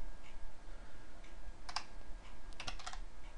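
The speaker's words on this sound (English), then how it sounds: "Whew, that was a lot of typing." Someone types on a computer keyboard while writing C++ Qt code, with soft, uneven key clicks and two brief bursts of quicker clicking, heard close and alone over faint room hiss.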